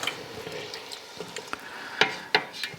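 Red wine is poured into a hot pot of chicken for coq au vin, giving a soft continuous sizzle and bubbling with a few sharp spoon and pot clinks near the end, close and moderately quiet.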